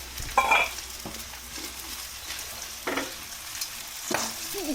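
Eggplant frying in hot oil, a continuous crackling sizzle broken by a few louder bursts of spattering and stirring, close up with no talk.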